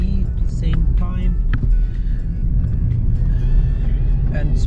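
A car drives along a road near Bruny Island, Tasmania, with a steady low engine rumble and road noise throughout. A few faint clicks and rustles from eating sit on top of it.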